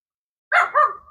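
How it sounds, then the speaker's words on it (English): A single dog gives a close, loud bark in a backyard garden, a short double-pulsed yelp standing alone against silence. "So, sorry about the barking,"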